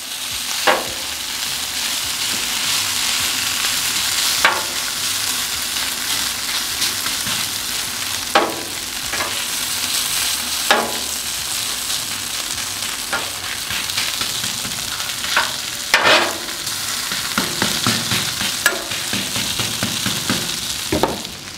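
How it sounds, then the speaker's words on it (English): Hash browns fry on a Camp Chef Gridiron griddle with a loud, steady, close sizzle, broken by occasional sharp scraping clicks of a spatula, and no talking. "All right, so we got our hash browns going."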